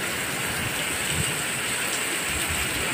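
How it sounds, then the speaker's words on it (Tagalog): Heavy tropical downpour with unusually large drops, a dense, loud, continuous roar of rain hammering surfaces nearby, with no pauses. "Tingnan nyo ang ulan o. Laki ng patak o."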